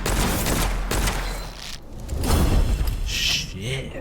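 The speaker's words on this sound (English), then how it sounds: "Look how far they're shooting us from." Enemy gunfire in the video game Witchfire, dense rapid volleys and booms with whooshing effects that run loud and continuous, as someone talks over the fight.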